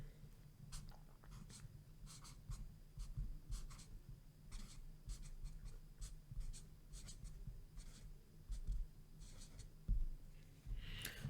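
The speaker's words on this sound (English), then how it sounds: "I guess I should write" Handwriting on paper: quiet, close scratching pen strokes in short irregular bursts, soft and intimate, with light breathing and no speech.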